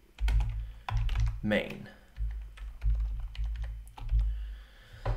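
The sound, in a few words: typing code on a computer keyboard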